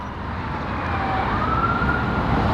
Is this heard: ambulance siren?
yes